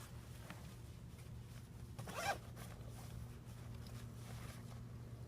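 A zipper on a food storage bag for camping is pulled once, short and close, in a quiet outdoor setting with faint wind noise behind it.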